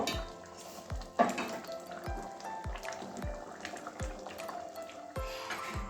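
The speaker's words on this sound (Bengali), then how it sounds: "ভালো গরম মেশানো হয়ে গেছে বন্ধুরা এবারে নামিয়ে নেব" Mung dal with spinach and papaya being stirred in a hot pan: a soft sizzle throughout with a series of regular scraping knocks of the spoon against the pan, roughly one each second, up close.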